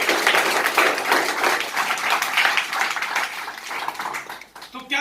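Loud, sustained applause from an audience at a talk, a dense wash of clapping that fills the room for about four and a half seconds before tapering off abruptly.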